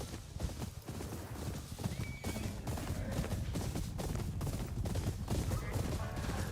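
Several horses gallop and neigh in Ghost of Yotei, a dense, driving stream of hoofbeats pounding in a fast rhythm, loud and close, with scattered whinnies over the thundering ride.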